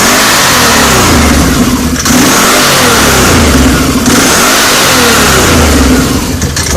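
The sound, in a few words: 2012 Can-Am Outlander 800 engine revving, clutches engaging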